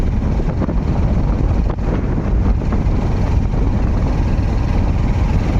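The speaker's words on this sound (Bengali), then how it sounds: "প্রচুর হাওয়া দিচ্ছে" Strong wind buffets the microphone during a motorcycle ride in a steady, loud rumble throughout, with gusty low-end roaring and no voices.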